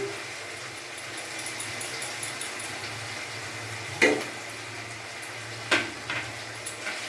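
Tomato sauce and chili sauce are stirred and cooked in a hot frying pan, giving a low continuous sizzle with scattered scrapes and two louder clanks of the utensil against the pan.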